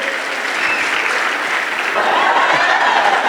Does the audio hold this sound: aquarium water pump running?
no